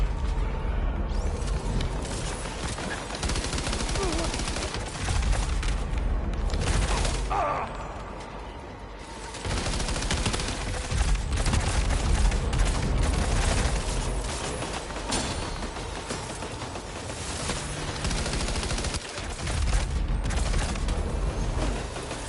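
Gunfire in a video game as a weapon is emptied, dense rapid volleys of shots crackling almost continuously and loudly for the whole stretch, with brief dips between bursts and no voices over them.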